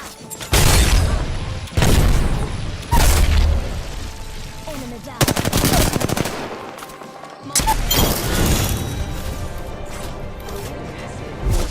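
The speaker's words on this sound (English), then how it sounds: "You can never go wrong with a well-placed bomb." Bomb explosions and gunfire in the video game Apex Legends: a rapid series of loud blasts and crashing booms, some in quick clusters, over constant game noise.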